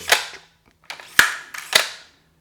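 The straight pull bolt action of a Blaser hunting rifle is worked, giving several loud, crisp metallic clacks in quick succession, close and alone.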